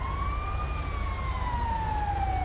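Ambulance siren in the GTA 5 video game, a steady wailing tone that slowly rises and falls over a low engine rumble, loud and continuous with no speech.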